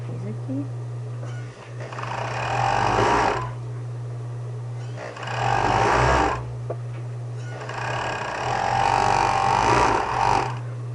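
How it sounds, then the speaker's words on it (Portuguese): An interlock sewing machine stitches a blouse in three separate bursts of whirring, steady motor runs with pauses between them, under a constant low hum, while someone talks nearby. "Essa aqui já é interlock, ela já faz as duas costuras."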